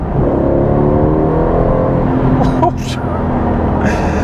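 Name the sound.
Aston Martin Vantage V8 AMG engine accelerating at full kick down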